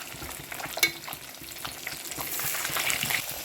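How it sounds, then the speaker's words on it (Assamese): Fish seasoned with salt and turmeric frying in hot oil in a home kitchen, a steady close sizzle and crackle that grows fuller toward the end, with one brief clink early on. "তেল গৰম হ'ব হৈছে আৰু মই এতিয়া ভাজি লওঁ মাছখিনি"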